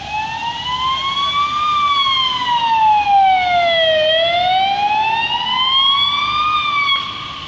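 Greek EKAB ambulance siren wailing loud and close on a road in Patras after a motorcycle crash, a smooth rising and falling tone sweeping slowly up and down for several seconds.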